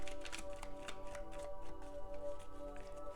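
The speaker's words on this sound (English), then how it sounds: "I'm going to shuffle a couple of cards just for some advice for Spirit" Tarot cards being shuffled by hand, soft quick papery riffles and slaps in a continuous run, faint and close.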